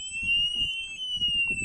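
A camper van's anti-theft alarm blares a continuous high, piercing electronic tone throughout, while people talk nearby underneath it.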